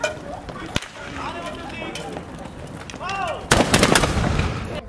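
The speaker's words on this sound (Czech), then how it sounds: "A tam byl zapálený doutnák a tím doutnákem odpálil kanón." A historic cannon touched off with a lit fuse during a reenactment of a 1620 battle booms in one sharp, loud blast over outdoor crowd murmur, after an earlier softer crack.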